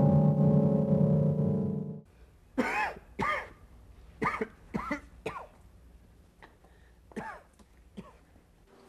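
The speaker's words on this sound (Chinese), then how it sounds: "咳嗽了？" An emperor in a historical drama coughs at night, a string of short, sharp coughs and throat-clearing bursts following a fading musical tone, fairly close and alone.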